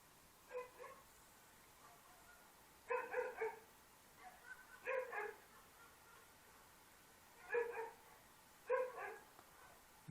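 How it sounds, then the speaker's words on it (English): Several dogs bark under a window in short bursts, about five clusters of sharp barks spaced a second or two apart, faint and somewhat distant against a quiet background. "let me pause it and go see those dogs and make sure they stop barking"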